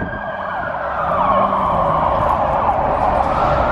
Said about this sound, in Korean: 이 동네에는 병원이 큰 병원이 하나 있어서 그런지 앰뷸런스가 자주 다녀요